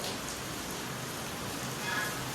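Light, fine rain falls steadily, a dense even hiss with soft pattering close by that holds at one level throughout, with no voices over it.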